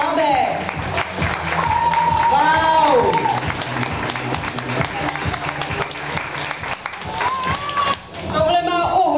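An indoor audience at a citizens' gathering and fashion show claps in sustained applause, with a voice exclaiming over it and talk continuing around the clapping.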